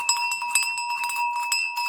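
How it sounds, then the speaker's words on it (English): A large metal hiking bell rings steadily on its own, clanging in a quick irregular rhythm with bright sustained overtones, fairly loud and close throughout. "This is the actual bell that I use every day when I'm hiking, okay? Let me play it for you."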